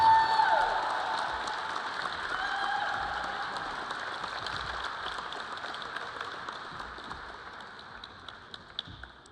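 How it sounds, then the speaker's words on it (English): Audience applause at an awards ceremony: a crowd claps in a loud opening burst that slowly thins and fades, with scattered sharp claps near the end. "let's give them a big round of applause here"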